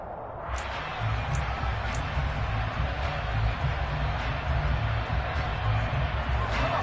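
A Madden 22 video game stadium crowd roars continuously in the background with a steady cheering swell, a few sharp high accents cutting through.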